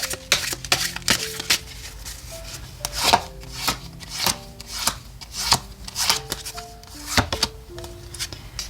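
Oracle cards being shuffled and drawn by hand: soft, irregular papery riffles, slides and taps that come in quick bursts close to the listener, with no talking.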